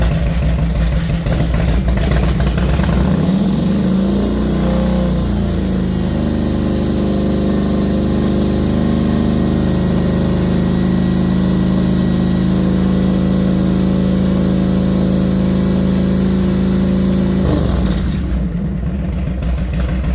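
A car engine idles steadily while a charging system load test runs, a continuous mid-pitched hum holding for most of the stretch before dropping away near the end.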